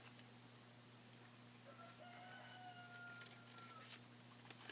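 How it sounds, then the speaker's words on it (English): A rooster crows faintly and at a distance over steady electrical hum and room noise, with a thin drawn-out call through the middle of the clip and some light rustling toward the end. "My rooster is so loud"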